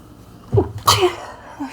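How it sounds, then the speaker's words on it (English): One person sneezes once up close, a short sharp burst over a quiet indoor background. "when I start channeling, I usually start sneezing."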